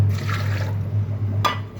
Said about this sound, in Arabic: هنزل عليهم بكوبايه ميه